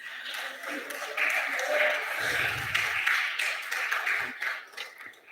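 Round of applause in the National Council of Provinces, a steady spread of clapping across the chamber at moderate loudness, with voices murmuring beneath it.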